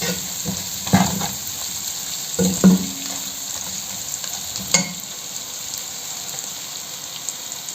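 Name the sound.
frying chicken jalfrezi in a pan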